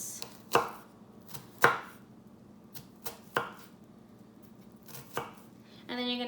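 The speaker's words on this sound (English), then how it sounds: "Best way to cut an onion is to cut down on the sides in equal" A knife chopping through half an onion on a cutting board, about eight sharp, separate thunks at an uneven pace, close and clear with quiet between strokes.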